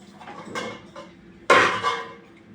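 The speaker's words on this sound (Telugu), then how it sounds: "గిన్నెలు అన్నీ క్లీన్ చేసుకునేసరికి టైం బాగానే పడుతుంది" Dishes clatter and clink in a sink, a couple of soft knocks followed by a louder clang of pots and utensils.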